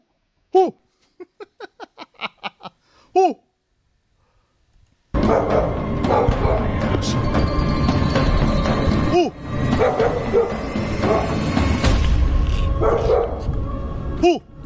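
A dog barks in a quick run of yips, then two louder barks, before a loud stretch of noisy activity with a few more barks.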